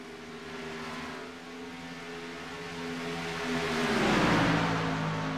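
A race car engine in the iRacing video game at Talladega drones steadily with sustained harmonic tones, rising in pitch and loudness toward a swelling pass near the end, with no talk.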